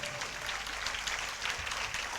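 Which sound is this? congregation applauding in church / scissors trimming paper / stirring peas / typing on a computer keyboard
congregation applauding in church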